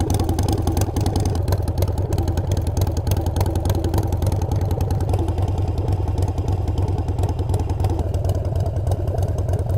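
Harley-Davidson Sportster with a loud aftermarket exhaust, idling close by: a continuous deep, lumpy rumble with a mechanical clatter, steady throughout, no voices.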